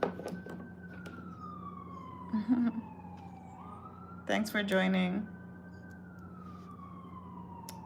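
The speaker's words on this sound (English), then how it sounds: "You guys might hear sirens a lot where I live." A siren wails steadily in the distance, its pitch slowly falling and rising, while a person speaks briefly over it.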